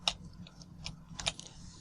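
Computer keyboard bracket keys click in a few quick, light taps at an uneven pace, close and fairly quiet, with no talking, while a brush is resized during Photoshop editing of a pet photo.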